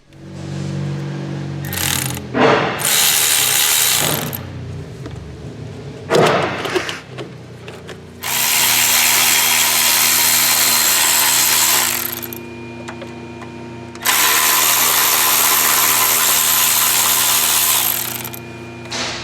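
A power ratchet whirs in several loud bursts while removing engine parts for a Chevy Cruze turbocharger replacement, two short ones and then two long sustained runs, with mechanical clatter and pauses between.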